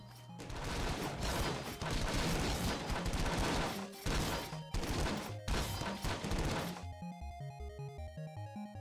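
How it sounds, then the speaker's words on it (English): Thrown axes smashing targets in the video game Rogue Legacy, a dense, loud barrage of crashing impacts for about seven seconds that gives way to a bright, stepping chiptune-style game jingle. "You get 5 axes to destroy as many targets as possible."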